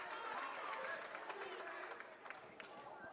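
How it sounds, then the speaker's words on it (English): A crowd claps in the stands at a girls' high school basketball game in a gym, with a steady wash of applause and scattered sharp claps under ongoing commentary, fading somewhat toward the end. "Round of applause for Amaya Kubansik"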